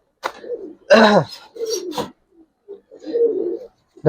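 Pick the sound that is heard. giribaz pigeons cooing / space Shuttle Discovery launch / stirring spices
giribaz pigeons cooing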